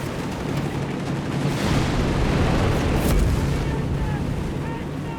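High explosive shells pound an infantry tank in the Company of Heroes 3 strategy game, a steady heavy rumble of blasts and battle noise that swells and stays dense throughout, with faint voices underneath.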